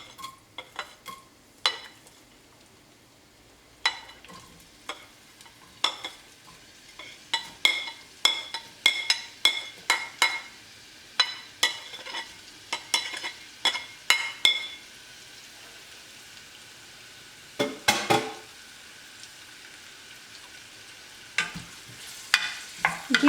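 Aromatics frying in hot oil on a medium stove give a low, steady sizzle, punctuated by many sharp scraping and clinking strokes of a spoon against the pan, coming in irregular bursts, close up and without talk.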